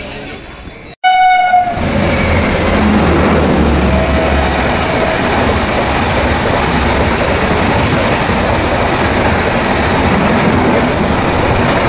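Intercity Express passenger train at a crowded station, with a loud, long horn blast at the start, a short burst before it, then a continuous heavy rumble of the train under crowd noise.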